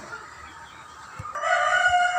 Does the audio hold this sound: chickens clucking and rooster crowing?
yes